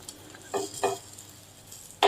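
A vegetable omelette in a pan gives a soft background sizzle, with a few short scraping, clattering bursts as it is turned and flipped, and a final louder scrape.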